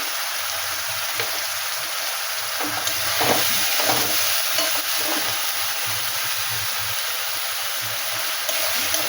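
A spice paste with turmeric and salt sautés in a pan for a fish curry, a steady close sizzle and hiss with occasional stirring scrapes and a brief louder swell, no talking.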